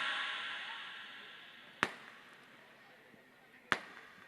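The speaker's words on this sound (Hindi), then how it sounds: "यह आतिशबाजी" Fireworks at a 2024 Ravan Dahan festival in Sumerpur: two sharp, loud bangs about two seconds apart burst out over a faint hissing outdoor background.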